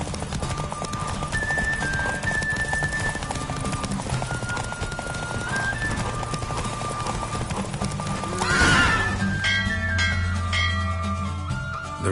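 Hooves pound in a fast galloping rhythm during a horse race in The Witcher 3, with whinnies and a brief louder swell near the end over a continuous game soundscape.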